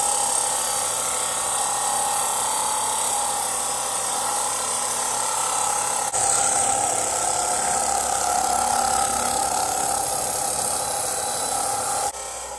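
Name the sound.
belt sander grinding a machete spine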